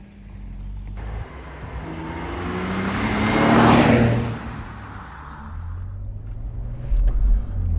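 A BMW Z4 roadster drives along a road, its engine note rising as it accelerates and passes close by, then fading slightly before a brief louder rumble near the end.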